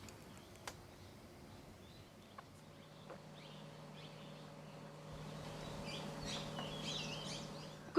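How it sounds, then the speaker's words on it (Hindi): Soft bird calls and chirps scattered through the Bandhavgarh forest in India, distant and faint against a quiet outdoor background, growing slightly busier toward the end. "अभी चारों ओर चिड़िया चहचहा रही है"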